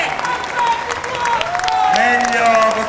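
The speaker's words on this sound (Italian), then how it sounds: "un applauso!" An audience at an Italian charity event for water gives steady, fairly loud applause, with a voice heard speaking over the clapping throughout.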